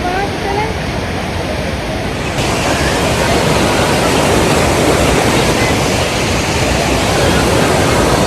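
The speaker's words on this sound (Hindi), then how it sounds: "वाटरफॉल कहाँ से आ रहा है।" Waterfall of icy glacier meltwater in Naran valley, a loud, steady broadband roar of rushing water close by, continuous throughout with a brief thin tone at the start.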